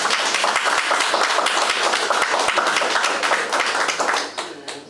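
An audience at a law talk on mediation and ADR claps together in dense, steady applause that holds strong and then tapers off toward the end.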